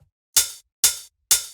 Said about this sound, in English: And then we have a 909 hi-hat